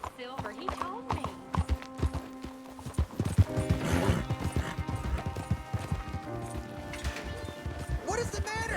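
Horses ridden in Red Dead Redemption video game, with rapid clip-clopping hoofbeats running through the scene and a neigh amid the trotting, while characters talk over the riding.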